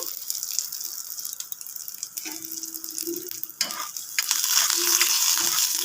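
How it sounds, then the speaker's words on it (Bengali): Curry leaves and white sesame seeds frying in hot oil, a continuous close hiss and crackle that grows louder toward the end, with occasional stirring clinks and scrapes, no talk. "একটু ভালো করে ভেজে নেব, ভালো একটা গন্ধ ওঠা অবধি অপেক্ষা করব।"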